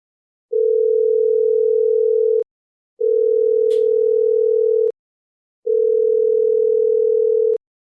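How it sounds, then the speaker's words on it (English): A telephone line for a live call-in show rings with three long, steady, loud tones, each about two seconds, separated by short silences, with no voices. "Can you hear the phone ringing now?"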